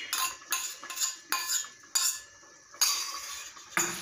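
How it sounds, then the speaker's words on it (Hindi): A spoon stirs a mixed vegetable curry in a metal pan after cream is added, about eight rhythmic scraping clinks at a steady half-second pace, close and distinct with no speech. "अब इसको अच्छे से मिक्स कर लेंगे"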